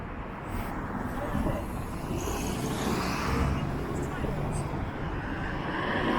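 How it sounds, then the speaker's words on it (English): Light road traffic passing through Blackpool town centre at Monday lunchtime: a steady, moderately loud broadband rumble of vehicles with wind buffeting, continuous throughout without distinct single pass-bys. "Yeah, traffic's light"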